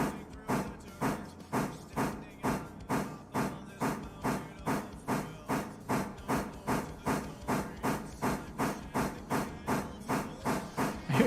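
A steam locomotive pulls out of a station in a video game, its exhaust chuffing in a steady, regular rhythm of sharp hissing beats, close and even throughout.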